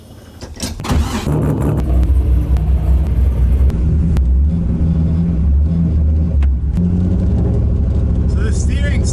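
An LS-swapped Mazda Miata with a new exhaust starts up and drives off, its deep engine rumble rising sharply after the first second and then holding loud and steady, with talk heard over it.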